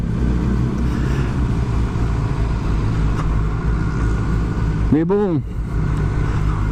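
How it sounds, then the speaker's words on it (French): A 2017 Kawasaki Z900 roadster rumbles steadily while being ridden, its low engine drone constant and close, with a rider talking over it and a brief rising-falling whine near the end. "je suis au guidon d'un roadster, un petit roadster"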